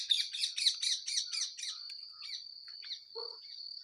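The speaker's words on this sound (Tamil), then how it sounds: "கிளி சவுண்டெல்லாம் கேட்டிங்களா?" Parrots squawking in an open field or orchard, a quick train of harsh, rhythmic calls followed by scattered chirps and a few lower squawks, clear but moderately distant with no talk over them.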